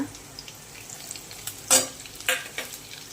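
Curry leaves, chopped coriander and crushed green chilli paste dropped into hot oil for a Maharashtrian buttermilk kadhi, crackling and sizzling in bursts with a few sharp spluttering pops over a low steady hiss.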